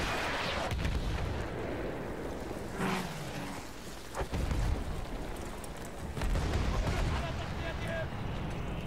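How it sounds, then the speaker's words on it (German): Explosions and gunfire from the video game Battlefield 1 boom and crack repeatedly over a dense, rumbling battlefield din, with several sharp, loud blasts spaced through the clip. "Hier knallt's einfach nur in jeder Ecke."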